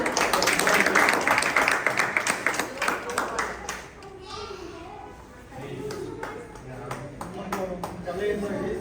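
Audience applause at a karate championship celebration, honoring Kannada artists: dense, loud clapping for the first four seconds, then fading into scattered claps and crowd murmur before swelling again near the end.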